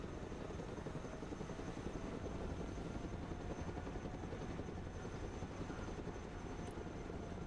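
A helicopter in the video game War in the Baltic flies steadily, its rotor and engine drone forming a constant, even roar that holds throughout without any voices.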